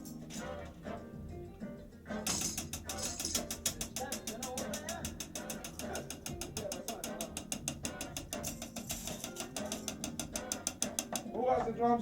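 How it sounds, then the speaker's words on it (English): Steady, rapid stream of hi-hat strokes at an even rhythm, with a teacher's voice and some room noise underneath during a drum workshop; the strikes start dense after a brief lead-in and run continuously to the end. "What you hear is the 60-note flow on the hi-hat"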